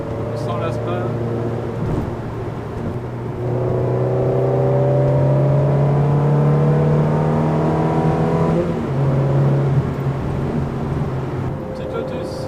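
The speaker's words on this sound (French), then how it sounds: "Le pied de l'accélération à chaque fois, et le son du V8" A V8 engine at a car meet revs up and holds a rising, droning roar for several seconds before dropping back, loud and fairly close.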